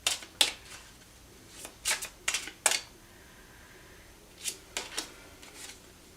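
Tarot cards being shuffled and drawn, close and fairly quiet, with a series of short crisp riffles and snaps in irregular clusters separated by quiet gaps.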